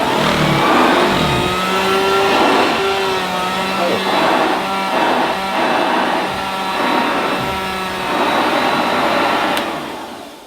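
A 1976 Hoover Dirtsearcher upright vacuum cleaner runs on its first switch-on, giving a steady, loud motor whine with a rough, rattling texture. The drone wavers a little before dropping away at the end.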